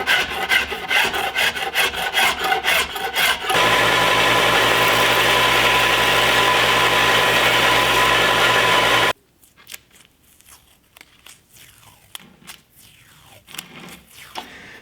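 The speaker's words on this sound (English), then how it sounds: "This is my dull draw knife." A dull draw knife scrapes glue and plastic wrap off a homemade epoxy bow, a loud rasping strokes-then-continuous grind that stops abruptly, followed by quieter intermittent scraping and handling.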